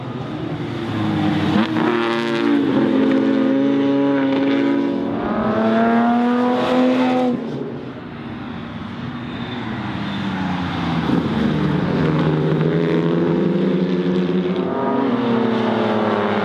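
Classic racing cars, Jaguar sports cars at the Nürburgring, roar past loudly with sustained engine drone and shifting revving pitch, one car fading around eight seconds before more engine noise builds again.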